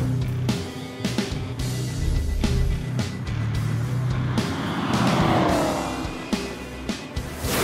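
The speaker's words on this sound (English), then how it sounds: "The first thing that makes the Hellcat so special is the most obvious thing, is the supercharged engine." Supercharged Hemi V8 of a Dodge Challenger SRT Hellcat revs and roars, deep and throaty, with bursts of acceleration, a rising whine, and sharp breaks between passes.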